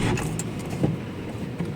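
A self-drive car starts up for a long road trip from Howrah to Digha: a close engine turnover and idle rumble with faint mechanical clicks, with no voices.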